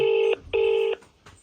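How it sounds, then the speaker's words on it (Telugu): Two long electronic ringback tones, each under half a second, separated by a short gap, clear and close like a phone line. "ఇదిగో డాక్టర్ గారికి ఫోన్ చేస్తున్నాను అనమాట"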